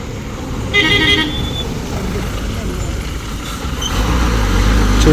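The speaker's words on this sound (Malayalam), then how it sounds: "ഒരു ബസ് വരുന്നുണ്ടേ" A bus draws near on a road by the Chulliyar dam, giving a short bright horn toot before its engine rumble swells as it passes close.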